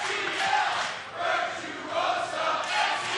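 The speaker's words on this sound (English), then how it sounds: "Listen to this crowd, man." A large Philadelphia arena crowd at an ROH women's wrestling match roars and cheers in sustained waves, swelling and dipping, loud and dense with no single voice standing out.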